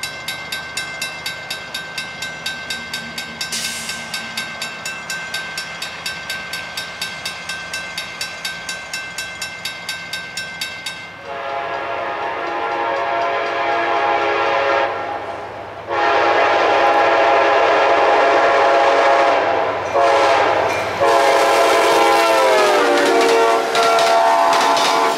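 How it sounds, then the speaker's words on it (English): Amtrak P094, a morning passenger train leaving Newport News, passes Lee Hall with rapid rhythmic clicking at first, then loud sustained horn blasts close by over the roar of the passing train. "That was Amtrak P094, the morning departure from Newport News."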